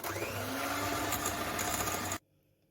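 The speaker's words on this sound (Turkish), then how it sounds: "tekrar köpük olana kadar çırpıyorum" Milk and vegetable oil whisked until foamy for a stovetop mug cake batter, a steady loud electric mixer whir running continuously close by, then cutting off abruptly near the end.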